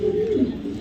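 Racing pigeon giving a short, low, close coo that wavers and slides downward, about a second long.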